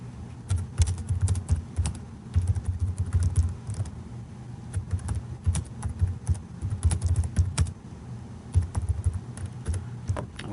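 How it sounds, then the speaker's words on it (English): Steady typing on a computer keyboard while writing in a word processing document, a quick run of clicking keystrokes with brief pauses, close and alone. "you can just start typing."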